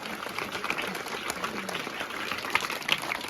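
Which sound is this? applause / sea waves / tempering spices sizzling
applause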